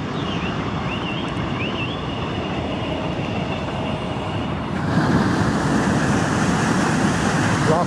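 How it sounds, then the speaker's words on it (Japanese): A freight train rumbles steadily past close by, a continuous broadband roar that grows louder and denser partway through, with faint high whines above it. "もう貨物列車、"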